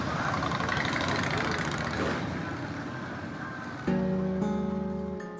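Motorcycle engines idle and rumble steadily at a four-day motorcycle rally in Fayetteville, a dense, continuous low drone with a louder engine note joining near the end.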